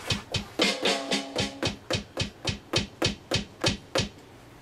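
A Roland HandSonic HPD-10 electronic percussion pad struck in a steady beat, about a dozen crisp, evenly spaced hits with sharp attacks and short decays, heard close and alone.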